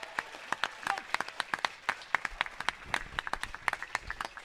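At a sumo tournament in Dallas, a small audience claps in sharp, distinct, uneven slaps with light crowd noise underneath, the claps growing a little denser toward the end.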